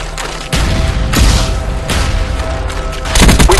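A frag grenade blast in Call of Duty Black Ops team deathmatch on the Jungle map, a loud booming burst amid rolling gunfire, with a second heavy blast near the end.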